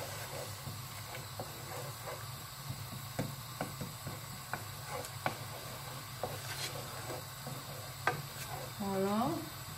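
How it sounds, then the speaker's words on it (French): Turmeric and salt being stirred into coconut milk in a pan, giving soft repeated scraping strokes over a steady low simmering hiss, with a brief bubbling swell near the end. "On va mélanger tout ça"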